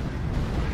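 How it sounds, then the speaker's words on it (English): An ammo explosion destroys a mech in a video game, heard as a short, low, rumbling boom that fills the whole moment without any clear separate blasts. "Did I take you out with an ammo explosion there?"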